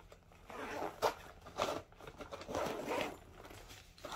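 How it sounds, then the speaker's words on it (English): A backpack's main pocket zipper being opened, a few soft close rasping pulls in separate bursts with quiet pauses between, fairly faint and without talk. "The backpack's main pocket zipper is right here."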